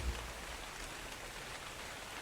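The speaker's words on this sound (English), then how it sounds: "Starting to rain, but even though it wasn't raining before, it was still getting 80 FPS" Rain falls in ARK Survival Evolved as a soft, steady hiss of drops on surfaces, fairly quiet and even throughout, with no voices.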